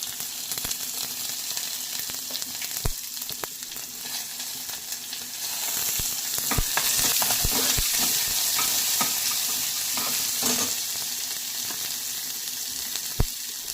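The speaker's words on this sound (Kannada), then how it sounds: "ಈ ಕಡಲೆಬೇಳೆ ಫ್ರೈ ಆಗಿದೆ ಈಗ ಈರುಳ್ಳಿ ಹಾಕಿ" Chana dal and onions frying in a pan for radish palya, a continuous close sizzle that grows louder midway, punctuated by sharp spoon knocks and stirring scrapes.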